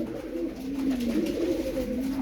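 Tumbler pigeons coo in a steady, rolling murmur that continues through the whole moment, close and moderately loud, with no talking.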